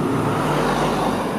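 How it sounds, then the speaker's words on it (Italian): A car arrives with a steady, loud engine and road rumble that holds evenly throughout, close by, with no voices over it. "La macchina!"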